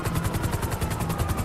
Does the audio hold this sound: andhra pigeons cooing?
no